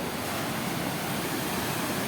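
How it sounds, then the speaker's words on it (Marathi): Rough sea waves crash onto the shore at Bharadkhol Koliwada, surging toward the houses: a dense, steady roar of surf and spray with no break, heard up close and without talk. "बघ लाट आली बघ"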